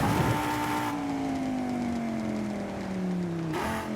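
A Donkervoort D8 GTO in Forza Horizon 5 roars at high speed down a runway, its engine note holding loud and steady with a slowly falling pitch as acceleration tapers, then a shift near the end.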